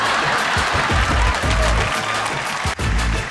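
A studio audience at a comedy show applauds the Mangaluru Prashamsa team, with dense, steady clapping running throughout, loud and close, and faint crowd murmur beneath.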